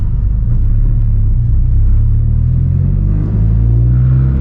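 Low, loud rumble from a tuned 2018 Honda Civic Si sedan with a catless downpipe, heard from inside while driving, with a steady engine drone and a rising pitch near the end.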